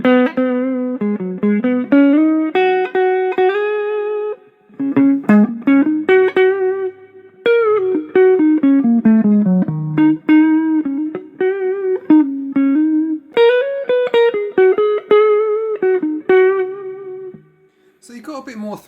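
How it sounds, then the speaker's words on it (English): A Westfield Les Paul electric guitar plays with a dirty, crunchy overdrive, loud and close, in a steady stream of sustained notes and bends with a few short breaks. "We'll do a little bit of dirty kind of crunch as well in a minute."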